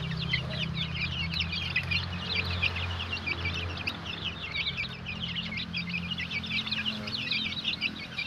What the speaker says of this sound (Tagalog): Pure darag native chicken.